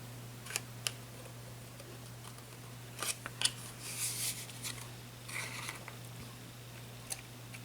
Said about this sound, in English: So I'm just carefully cutting it out.